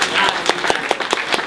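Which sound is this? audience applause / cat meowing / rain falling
audience applause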